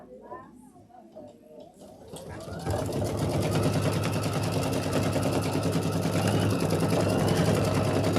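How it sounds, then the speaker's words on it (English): A home sewing machine stitches satin stitches around the windows of a quilt house block, starting with a few faint clicks and then settling into a loud, steady, rapid mechanical whir with no talk. "it's going to do the satin stitches around the windows"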